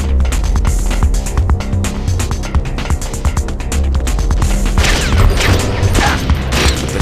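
Loud, dense bursts of gunfire ring out from the video game Metal Gear Solid: The Twin Snakes as enemies are taken down with headshots, layered over booming in-game sound that never lets up.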